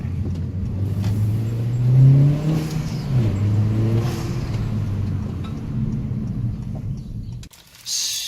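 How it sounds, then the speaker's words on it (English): A turbocharged Honda Accord or Civic with an eBay adapter intake accelerates hard from inside the cabin, engine note rising through gears with a loud surge and shifts, then easing before cutting off near the end. "that's what the car sounds like with the intake that you guys saw"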